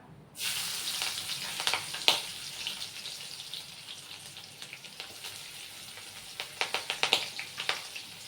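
Spices tempering in hot oil sizzle steadily after a sudden start, with scattered sharp crackles and pops, close and moderately loud, no talking.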